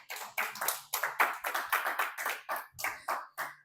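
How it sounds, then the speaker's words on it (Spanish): A church congregation at a Sunday service applauds together, a dense run of rhythmic claps close and loud for several seconds, with no speech over it. "Denle un aplauso fuerte a Dios."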